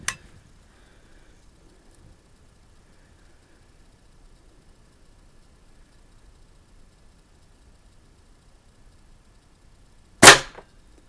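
A Stoeger S3000 C air rifle fires once: a single sharp, close crack near the end after a long stretch of near silence, with a faint click at the very start.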